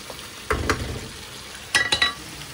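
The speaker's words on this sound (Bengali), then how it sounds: "এই যে ইলিশ মাছ রান্না করতেছি" Hilsa fish simmering in a spice masala in a home kitchen pan, heard as two short bursts of sizzling and stirring over a quiet, low hiss, with no talking.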